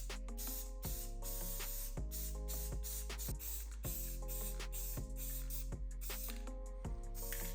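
An aerosol can sprays drab and rusty dirt-colored paint for a dish soap camo finish. The hiss comes in a quick series of short, even bursts, about one every second, and the sound is quiet and close with no talking.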